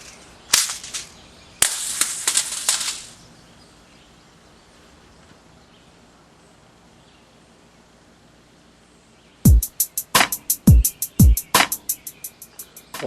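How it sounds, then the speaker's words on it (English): A Thunder-B CO2 airsoft grenade loaded with .12 BBs goes off outdoors, first as a sharp hissing burst, then after a quiet gap as a rapid string of loud snapping pops and cracks. "I started walking over to the grenade and it went off, and it really threw all the BBs around at like foot level out in a spiral"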